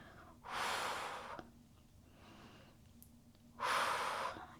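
Two long, loud breaths close to the mic during a Pilates abs and pelvic floor exercise, each lasting about a second, with a quiet pause between them.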